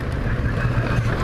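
A Versus motorcycle rides along with a steady, continuous low engine drone and wind rush, loud and close throughout.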